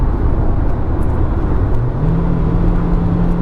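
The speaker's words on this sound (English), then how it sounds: "I was at 60 when I punched it, and I just now hit 80" Steady interior drone of a 2015 Nissan Sentra SV's 1.8-litre 16-valve inline-four at full throttle, accelerating from 60 to 80 mph, with a low engine hum that rises slightly in pitch over road and wind rumble.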